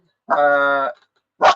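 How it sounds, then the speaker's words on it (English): A dog barks once in a long, drawn-out, tonal bark, followed by a short sharp second bark, close by and alone with no talk over it. "sorry about the dog"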